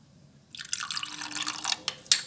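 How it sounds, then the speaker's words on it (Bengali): A small amount of water is poured into a cooking mixture being stirred together, a brief faint trickle and splash with a few light drips, close by and alone. "এরপর একটু অল্প করে জল দিয়ে দিচ্ছি এর মধ্যে।"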